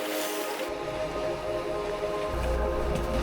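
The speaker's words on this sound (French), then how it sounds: "il fait très pluvieux, il pleut énormément" Heavy rain at Les Houches on the Tour du Mont Blanc in autumn, a dense, steady hiss of downpour close by, with a deeper rumbling wash joining after the first moment and no voices.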